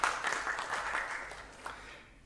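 Applause from a congregation inside a church, a dense patter of clapping that tapers off and fades out within a couple of seconds.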